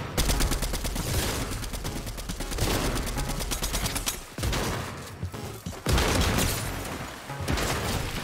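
Dense, loud bursts of rapid gunfire in Fortnite, a video game, firing in long volleys with brief gaps, with booming impacts mixed in and no voices over it.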